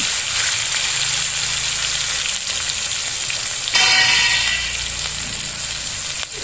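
Tomatoes and green chillies sizzle steadily in hot oil for a pabda fish curry, a loud continuous frying hiss that flares briefly midway as fresh pieces hit the pan, with faint utensil stirring.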